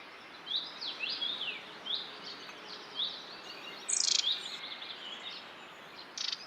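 Birds call repeatedly in an open primeval forest, short chirps and whistled notes at a steady rhythm, with one louder, nearer burst, over a faint background hum of insects.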